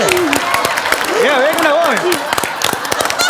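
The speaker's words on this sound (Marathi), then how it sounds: "टाळ्या थांबू आधी" A studio audience at a Marathi comedy show claps in scattered, steady applause underneath a performer's sung, drawn-out vocal exclamations.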